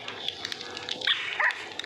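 Dogs in the Minecraft video game bark and yip in a brief flurry of small, high-pitched barks, close and moderately loud over a steady background hum.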